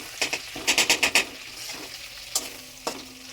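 Prawns frying in a pan for a malai curry: a faint sizzle sits under a quick run of spatula scrapes and stirs, followed by two more isolated strokes.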